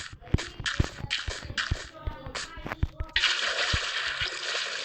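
Water splashing in the Minecraft video game: a run of short splash and trickle bursts, then a steadier rushing wash in the last two seconds, moderately loud with no talk.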